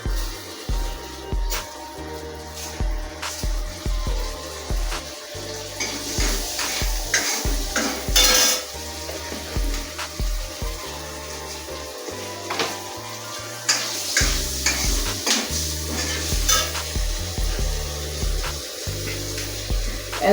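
Panch phoron and green chili fry in hot oil for a potato and pumpkin curry, a steady crackling sizzle broken by rhythmic stirring and scraping, loud and close throughout.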